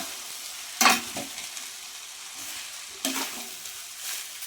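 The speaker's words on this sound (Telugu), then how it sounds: "కూరగాయలన్నీ బాగా మనకు కలిసి సోయా సాస్ అన్నీ వేసాం కదా, ఇవన్నీ బాగా కలపాలి." A spatula stirs vegetable fried rice with soy sauce in a pan, giving two distinct scraping, sizzling bursts about two seconds apart over a soft steady frying hiss, close by with no talking.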